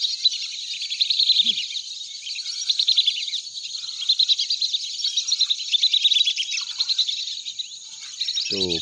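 A flock of whistling ducks (belibis) gives dense, continuous high-pitched whistling calls that overlap in rapid chattering pulses outdoors, fairly close, with a brief low voice at the very end.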